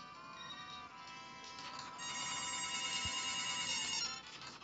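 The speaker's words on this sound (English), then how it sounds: "Phone's ringing." A telephone ringing indoors, a steady electronic ringtone that grows louder partway through and stays fairly close, with no talk over it.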